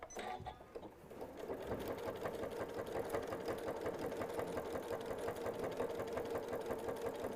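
A home sewing machine runs steadily, top stitching fabric along an edge with a lengthened stitch setting, its rapid mechanical chatter continuous and close for several seconds with no talking.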